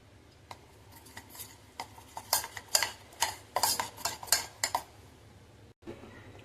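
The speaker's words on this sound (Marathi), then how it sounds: "आता हे पीठ भिजवून घ्यायचं आपल्याला." A spoon clatters and scrapes in a bowl while gram flour batter is mixed, first a few sparse taps, then a quick rhythmic series of close, sharp clinks that stops near the end.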